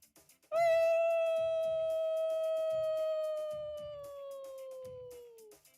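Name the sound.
actor imitating a werewolf howl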